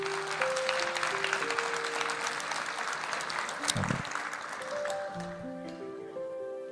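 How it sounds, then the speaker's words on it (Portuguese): A church congregation claps together in a sustained round of applause, the dense clatter of hands running for several seconds before thinning out, with a sustained musical tone underneath. "Uma salva de palmas para os irmãos que estiveram no sábado."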